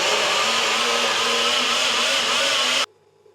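A blender whirs loudly at a steady high speed for a few seconds, then cuts off abruptly into near silence.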